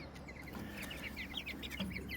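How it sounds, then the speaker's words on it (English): Backyard chickens with small tufts on their heads cluck softly and repeatedly at close range over a steady low background hum, with no talking. "show you these new chickens"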